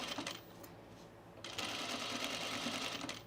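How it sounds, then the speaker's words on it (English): A sewing machine top stitches through pin tucks in fabric, stitching less than 1/8 inch from the edge; a brief whir at the start gives way to a steady, close motor hum and needle rattle. "It's okay to top stitch through your tucks."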